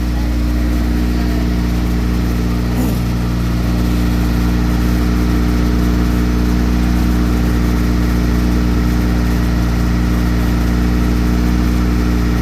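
A Honda Civic with a swapped H22 engine idles steadily and loudly up close, with a constant low rumble and a rapid ticking puff from an exhaust leak at the header throughout.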